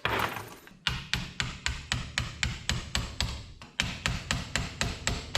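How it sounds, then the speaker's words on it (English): A flathead screwdriver is tapped against the notches of a fitting to tighten it while wiring a tool battery charging cabinet. Sharp metallic taps come at a steady quick pace, with a short pause partway through. "you actually just put a flathead on them and tap on that, and that's how you tighten it up"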